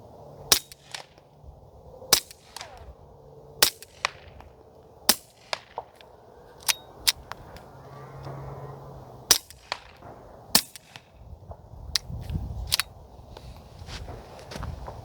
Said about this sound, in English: I'll shoot a tree about 100 yards away.